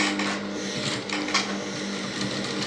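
Sewing machine running a half-inch seam on bow tie fabric, a fast steady mechanical whir and needle patter, fairly quiet and continuous, with no talk.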